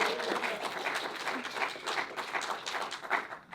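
An audience gives a round of applause for two helpers of a filmmaker, a moderately faint, lively patter of many hands clapping that swells and dips without pause.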